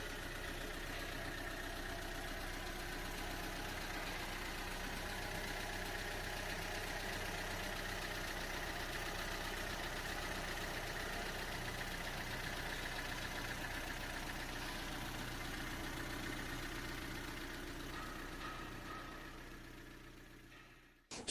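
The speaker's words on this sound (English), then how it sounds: "those were the shots of starting the engine" Gazel Next van with a rebuilt UMZ275 engine idling steadily for about twenty seconds, a faint, even mechanical hum heard at a distance until it cuts off, with no voices.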